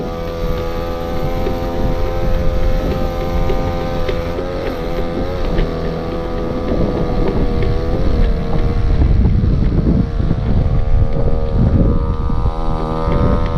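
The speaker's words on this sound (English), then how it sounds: "I'm giving it a pretty good amount of throttle right now" A Go-Ped gas scooter engine, old and long unused, runs loud and steady at high throttle, its buzzing drone continuous with wind rushing across the microphone throughout.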